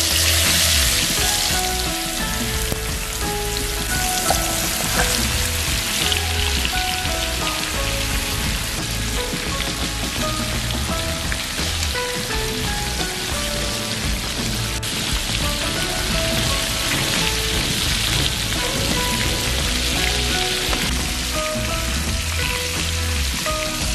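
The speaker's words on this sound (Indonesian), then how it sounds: "kita goreng ikan bandeng yang sudah dimarinasi tadi" Marinated milkfish (bandeng) fries in hot oil with a steady, dense sizzle and crackle. The sound is close and continuous, with scattered pops, and carries on unchanged for the whole stretch without any voices.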